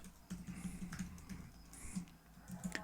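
Quick, faint keystrokes on a computer keyboard in a quiet room, a light irregular run of taps.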